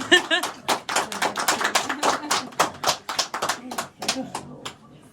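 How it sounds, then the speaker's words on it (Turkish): People at an engagement ceremony clap in quick, uneven bursts of hand claps, close and lively, mixed with overlapping talk and laughter throughout. "Alkış."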